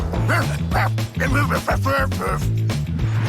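A cartoon dog from the animated series Les Dalton barks and yaps in quick, loud bursts over a bouncy musical score, with a few whimpering yelps mixed in.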